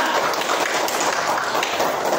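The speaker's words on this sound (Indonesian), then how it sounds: "Tepuk tangan untuk kelompok 3." Applause for a student group in an Indonesian classroom, a dense, steady wash of many hands clapping together for about two seconds with no pauses.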